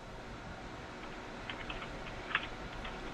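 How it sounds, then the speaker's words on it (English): A few faint, scattered keystrokes tap on a computer keyboard against a quiet room hum, with one sharper click standing out near the end. "I actually have a computer screen that I'm typing into."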